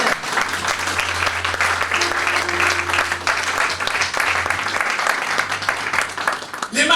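A church congregation applauding steadily and loudly throughout, dense sustained clapping filling the room with a low hum underneath.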